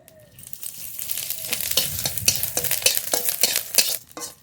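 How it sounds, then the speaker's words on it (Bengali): Coriander seeds, cumin and dried chillies frying in a little oil in a pan, stirred with a spoon in quick, repeated scraping strokes over a soft sizzle, close and fairly loud. "ধনে জিরে শুকনো লঙ্কা একসঙ্গে দিয়ে দেব একটু তেল দিয়ে ভেজে নেব"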